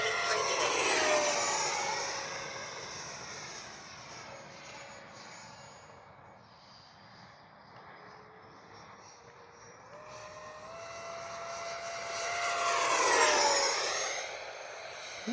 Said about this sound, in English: The fan sounds funny.